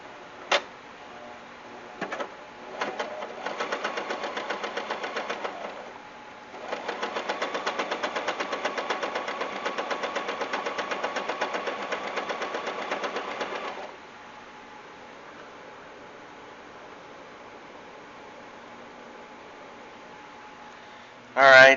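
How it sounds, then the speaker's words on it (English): A sewing machine stitching thick buckskin runs in two long stretches of rapid, even mechanical stitching, with brief starts and clicks before and a quiet pause after. "the sewing machine that I was using, epic fail. It would not go through 4 thicknesses of this buckskin"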